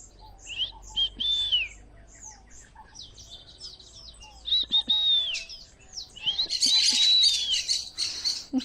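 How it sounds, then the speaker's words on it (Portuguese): Bright bird chirps and whistled calls come in short bursts with pauses between, clear and nearby against a quiet background. "Eu adoro conversar com os passarinhos."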